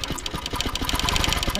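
A sewing machine stitches a quilt with a fast, even mechanical chatter, close and steady throughout with no talking.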